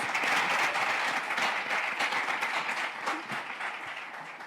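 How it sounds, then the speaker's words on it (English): A big round of applause from an in-person audience for a panel at a community launch event, a dense sustained clatter of many hands that gradually tapers off. "Let's give our panel a big round of applause."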